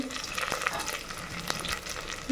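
A spoon stirs and dissolves a kuzhambu curry with sambar powder and salt in a pan, giving a steady close frying sizzle with scraping strokes throughout.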